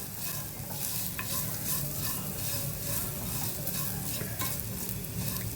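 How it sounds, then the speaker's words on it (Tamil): Dry nuts, meant for a green gram laddu, are lightly roasted and stirred in a pan, giving a steady close rattling scrape with a soft sizzle throughout and no voices. "சும்மா லைட்டாக வறுத்து எடுத்தால் போதும்"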